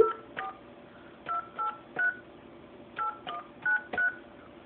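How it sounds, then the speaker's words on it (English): Touch-tone keypad beeps as a number is dialed for a prank call to a doctor's office, about ten short, evenly loud tones in irregular bursts, close and clear over quiet room noise. "We're going to make a crank phone call."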